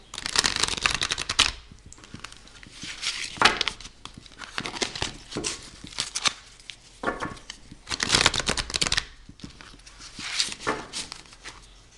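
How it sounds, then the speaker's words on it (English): Cards riffle and slide against each other in repeated bursts, crisp papery rustling coming in close, uneven waves with short pauses between. "I'm going to be shuffling the cards"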